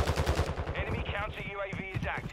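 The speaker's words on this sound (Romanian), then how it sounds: "Doamne, câte gloanțe am tras" Rapid gunfire in Call of Duty: Modern Warfare II on Ashika Island, a fast rattling string of close shots mixed with voices talking over it.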